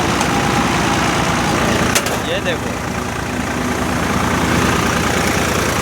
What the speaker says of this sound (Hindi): लो भाई, चल रहा है ट्रैक्टर